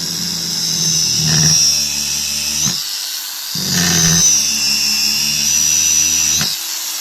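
Procraft PW-2200 brushless 125 mm, 1100 W angle grinder switched on and run twice, each time spinning up to a loud high whine, holding steady, then cutting off and winding down, with a quiet gap between runs.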